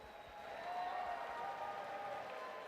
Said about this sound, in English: how about one more round of applause for our professionals here tonight